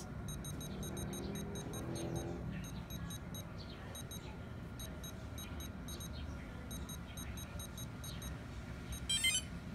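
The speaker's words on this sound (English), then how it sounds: "So there's the beep." Rapid repeated electronic beeps pulse in short bursts over a low background hum, with a brief louder chirp near the end.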